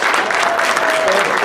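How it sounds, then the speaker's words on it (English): An audience at a science-fiction convention's opening ceremony applauds in a short, steady burst of clapping, loud and close, with no voices over it. "again, give everybody a round of applause."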